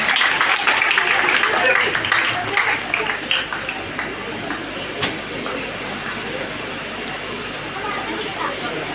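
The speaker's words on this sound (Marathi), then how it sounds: "जोरदार टाळ्या" Crowd applause at the inauguration of a community centre in Akkarbhat Nanbhat, dense and loud at first, then thinning out into a steady hiss of background noise.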